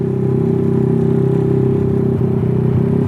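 A bored-up motorcycle engine runs at low revs with a steady, throaty rumble and slight uneven knocking, rolling along slowly and close by.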